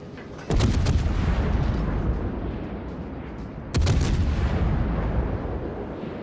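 HMS Fiji cruiser guns in World of Warships fire two heavy salvos a few seconds apart, each a sharp loud boom trailing into a long rumbling decay.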